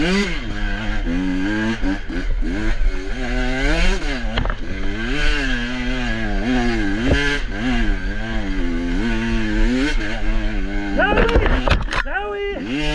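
A KTM 125 XC-W 2024 two-stroke enduro motorcycle revs loud and close throughout, its pitch rising and falling with repeated throttle blips and gear changes, ending in a sharp burst of revving.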